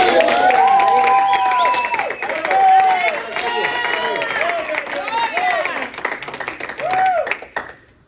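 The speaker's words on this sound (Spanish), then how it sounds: "Le damos un fuerte aplauso" A Spanish-speaking church congregation applauds loudly, with clapping mixed with raised voices calling out and cheering, before it tapers off near the end.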